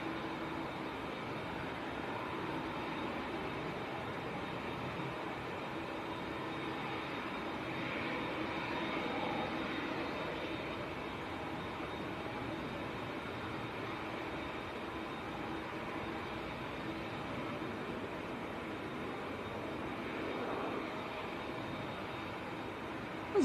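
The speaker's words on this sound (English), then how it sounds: "There's another TUI coming out as well, a 737." A TUI Boeing 737 jet at Manchester Airport gives off a steady, fairly distant engine roar that holds level for the whole stretch. It swells slightly midway and carries no talk.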